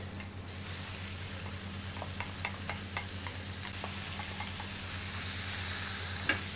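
Meat added to cooked onions fries in a pan for Italian shepherd's pie, a steady close sizzle broken by a series of light scraping and tapping stir strokes, with a sharp knock at the end and no talking.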